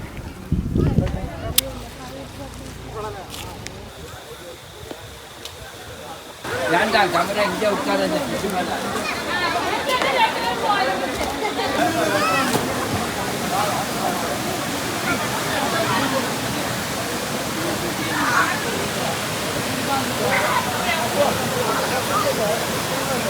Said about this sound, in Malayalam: സീതാർക്കുണ്ട് വെള്ളച്ചാട്ടത്തിൽ എത്തിയിട്ടുണ്ട്